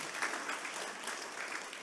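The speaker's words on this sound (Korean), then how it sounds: "박수하겠습니다" A church congregation claps together during a worship service, producing a dense, even wash of applause that stays steady for a couple of seconds, with no one speaking.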